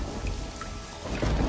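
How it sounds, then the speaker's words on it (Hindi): A heavy rainstorm pours down with rumbling thunder, a dense, loud, continuous roar of rain with deep low rolls and no voices. "बारिश इतनी तेज थी"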